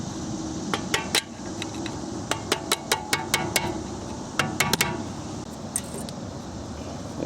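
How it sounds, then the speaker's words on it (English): A hammer taps repeatedly on a flathead screwdriver to drive out brake pads on an Acura TL front brake, sharp metallic clinks coming in quick irregular bursts over a low background hum. "if you want to just tap it with a hammer and a flathead"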